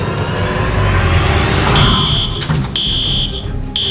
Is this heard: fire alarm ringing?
yes